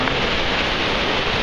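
Light drizzly rain falls outdoors in Iceland as a steady, even hiss of fine drops. It is fairly loud and close, with no talking and no other sounds standing out.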